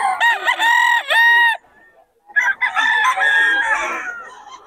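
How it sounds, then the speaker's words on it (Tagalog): Roosters crow loudly and close by, several calls in succession with a brief pause between, with some clucking mixed in. "Ayan o, daming manok ng Boss Tony ayan mga idol."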